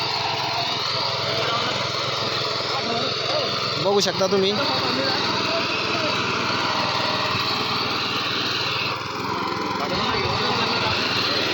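A power weeder's small engine runs steadily at high revs in a cotton field, a buzzing drone, loud and close, while someone speaks briefly over it.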